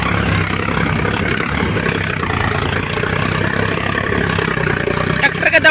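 A Sonalika 745 tractor engine runs steadily at close range, a loud continuous diesel drone with some clatter, as the driver works it through heavy soil, with a few louder knocks near the end.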